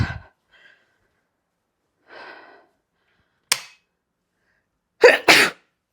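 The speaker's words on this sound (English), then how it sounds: "I'm going to sneeze" One person sneezes indoors: a few soft breaths and sniffs build up, then a sharp snort and a loud double sneeze burst out close by near the end.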